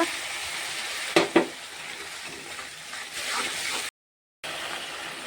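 Tomato paste sizzles and fries in a pan after onions have browned, a steady close crackle with a couple of sharp stirring clatters and a brief dropout near the end.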